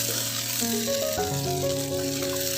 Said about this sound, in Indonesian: Tumis bawang merah, bawang putih, serta cabenya.